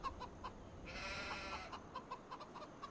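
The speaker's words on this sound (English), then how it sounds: "Chickens are growing." Game chickens clucking in Farming Simulator 25: a string of short, soft clucks repeating in quick succession at moderate distance, against a low background hiss with a brief brighter swell partway through.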